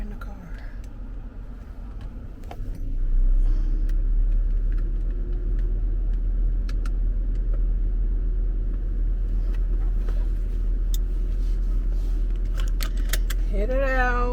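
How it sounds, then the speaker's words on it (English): Steady low road rumble inside a moving car, with faint clicks and jingles over it and a soft voice near the start. "So we are in the car."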